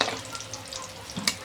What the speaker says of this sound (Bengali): কত সুন্দর মাছের কাটলেটগুলো ভাজা হয়েছে